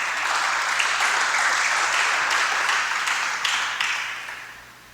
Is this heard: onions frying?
no